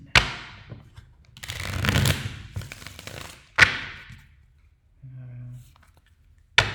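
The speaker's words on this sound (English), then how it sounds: "let's go ahead and give this a few shuffles" Tarot cards are shuffled in a few distinct bursts of riffling and sliding, with sharp snaps between them and a brief low hum in a quieter gap.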